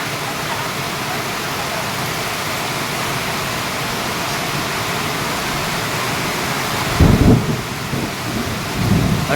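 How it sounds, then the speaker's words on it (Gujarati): Heavy rain pours down hard in a continuous, dense roar. A louder swell of downpour, or a rumble, rises near the end. "આટલો બધો જોરદાર વરસાદ આવે છે"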